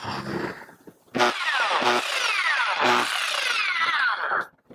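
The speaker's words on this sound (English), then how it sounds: "so we got our jigsaw and a fine tooth, 36 tooth per inch metal cutting blade in here." A jigsaw fitted with a fine 36-teeth-per-inch metal cutting blade buzzes loudly in close bursts, with a rising whine as the blade runs and brief pauses between cuts, in a woodworking shop.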